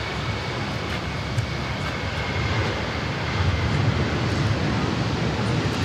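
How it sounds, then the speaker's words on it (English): A Qantas airliner takes off from Sydney Airport, making a steady, broad jet engine roar that holds strong and swells slightly, heard from a distance outdoors. "Qantas is off to Cairns."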